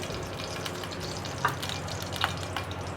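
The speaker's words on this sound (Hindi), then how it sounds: "अब इसमें मैं ऐड करूँगी ये जो घी है ना, ये 1 टेबलस्पून भर के मैं इसमें ऐड कर दूँगी" Ghee heating in a hot frying pan, a dense close sizzle and crackle with a couple of brief louder pops, no voices.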